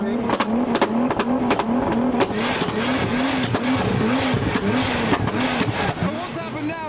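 Nissan R35 GT-R engine revving hard at a crowded JDM car meet, loud rhythmic rev bursts with crackling exhaust pops throughout, crowd noise and chatter underneath.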